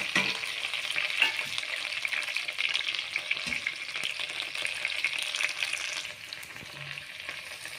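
Spices, green chillies, curry leaves, onion and salt frying in oil for chicken biryani, a dense continuous sizzle with occasional stirring scrapes and pops, close and loud.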